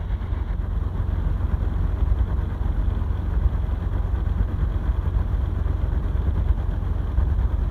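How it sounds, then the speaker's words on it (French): A light aircraft engine idles on the ground at Perpignan while it warms up, giving a steady, loud, low droning rumble that holds unchanged throughout, with no voices. "Le moteur lui il se met en température, tout va bien"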